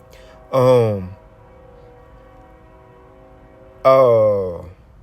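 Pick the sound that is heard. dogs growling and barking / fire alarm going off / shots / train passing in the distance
train passing in the distance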